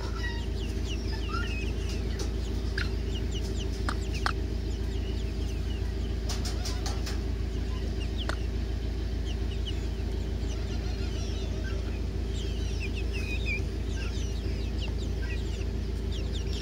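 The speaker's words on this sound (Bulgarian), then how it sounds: "Това е петлето с кокошчиците." In a rural poultry yard, a rooster and his small hens cluck and cheep repeatedly in scattered bursts, some near and some farther off, over a steady low hum throughout.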